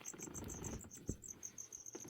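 Feeder crickets in a cage, dusted with white powder, chirp in rapid, evenly spaced high pulses that run steadily and fairly close, with a soft low rustle beneath.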